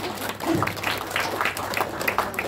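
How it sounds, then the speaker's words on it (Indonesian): Scattered applause from a church congregation honouring parents at a children's service, moderate and steady, with some talk mixed in. "So beri tepukan kepada setiap ibu bapa yang ada di sini."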